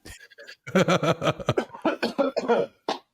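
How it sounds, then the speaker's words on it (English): A burst of several harsh coughs, close and fairly loud, running together in quick succession before a short final cough. "A bit of a cough."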